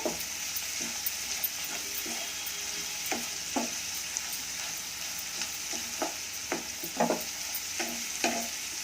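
Salt and a little turmeric stirred into food frying in a pan for homemade lemon rice: a steady close sizzle broken by irregular scraping spoon clicks, with no talk.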